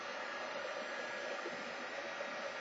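A hair dryer blows steadily and close, used to dry stamped ink from distress markers on a craft piece; a constant, even whoosh with no breaks and no talk.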